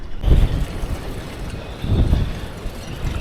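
Strong gusts of wind outdoors during Storm Ashley, buffeting the microphone in two heavy low rumbling surges over a constant windy roar.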